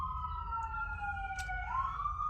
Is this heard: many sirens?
yes